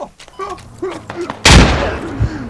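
A frag grenade detonates in the Squad shooter game, a sudden loud blast with a long rumbling tail, following shouted voices and radio-style chatter from players.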